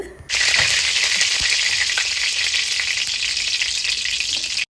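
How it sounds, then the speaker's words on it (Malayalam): Curry leaves dropped into hot coconut oil in a fish-frying pan burst into a loud, dense, close sizzle that starts abruptly and holds steady for several seconds before cutting off. "മീൻ ചട്ടി വെച്ച് വെളിച്ചെണ്ണയൊക്കെ തൂക്കിക്കൊടുത്ത് ഞാനത് കറിവേപ്പിലൊക്കെ ഇട്ട് കൊടുക്കുകയാണ്"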